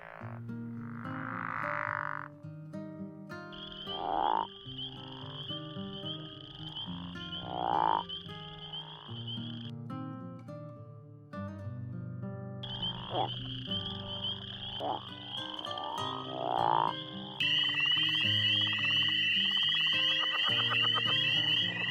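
Several species of true frogs (ranids) from eastern Texas croak in a series of distinct calls: pulsing croaks and trills repeat at intervals, and a sustained high chorus of calls joins in near the end.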